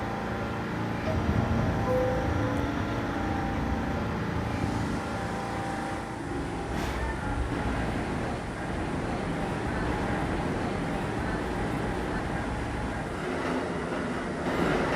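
A D Express subway train runs with a steady, loud rumble and rolling wheel noise, unbroken throughout with no voices.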